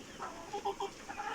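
Young hens and roosters on a small farm in Chattogram, giving a few short clucks and murmurs at moderate distance over quiet background.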